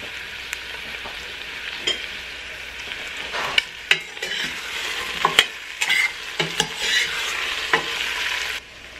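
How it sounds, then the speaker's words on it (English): Chicken and onions frying in a pan with bay leaves, a steady sizzle broken by sharp scrapes and clinks of stirring, loudest in the middle and ending abruptly. "And cook until the onions are cooked. And also, among with the onions, I'm gonna put in the bay leaves."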